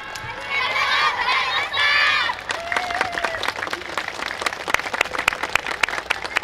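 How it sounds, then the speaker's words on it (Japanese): A crowd at the Hamakoi 2022 yosakoi dance event applauds the dance team Shippu Ranbu. Brief voices open, then dense, steady clapping with scattered cheers fills the rest. "疾風乱舞の皆さんに大きな拍手をお願いいたします"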